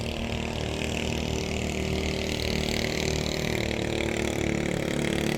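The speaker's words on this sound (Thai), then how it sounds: "เสียงกระหึ่มมาก็คือ เรือขนาดเล็กนะครับเรือ ประมงขนาดเล็ก" A small fishing boat engine on a river in the morning rumbles continuously at a steady, loud, close drone with a buzzing mechanical hum and no breaks.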